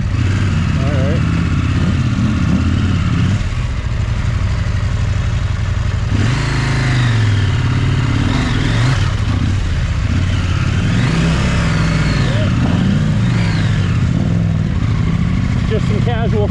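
500-pound adventure motorcycle, a KOVE 800X Rally or KTM 890 Adventure R Rally, rock hopping in the desert, its engine loud and close throughout, revving up and down in surges over rough ground.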